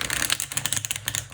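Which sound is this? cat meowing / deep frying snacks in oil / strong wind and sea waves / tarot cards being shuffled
tarot cards being shuffled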